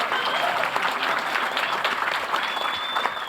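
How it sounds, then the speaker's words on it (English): An audience at a 2017 Los Angeles ska history panel breaks into sustained applause, a dense clatter of clapping hands with a few voices mixed in. "Give Brian a round of applause."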